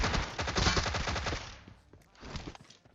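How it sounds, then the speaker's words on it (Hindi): Suppressed Tommy gun fire in PUBG Mobile: a rapid burst of muffled automatic shots for about a second and a half, then a short pause and a second quieter burst, moderately loud with no talk. "अपनी सप्रेसर से भरी टोमी गन से मैं इस बंदे को भी नॉक करता हूं"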